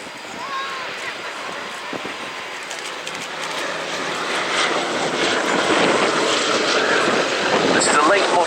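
A late model Boeing B-17G bomber flies overhead at an air show at Fairford, its propeller engines a broad rumbling drone that swells steadily louder while a commentator talks over the public address.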